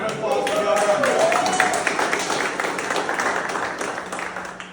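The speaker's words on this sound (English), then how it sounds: "Round of applause for Bill." Applause and clapping from an audience at a patriotic campus rally, a dense crowd-wide burst that swells early and fades over several seconds, with a voice over it.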